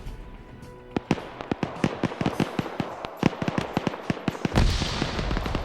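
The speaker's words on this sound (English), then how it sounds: "More grenades going off." Grenades burst during a multiplayer PvP shooter match as a rapid series of sharp, loud explosive cracks, ending in a heavier rumbling blast with no talk.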